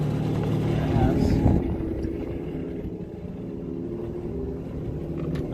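A Yamaha AR jet boat engine runs at a steady idle, a close, continuous low rumble with a fluctuating drone and no clear voices over it.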